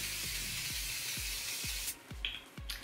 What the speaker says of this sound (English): in the middle of my hair, I'm just going to spray some hairspray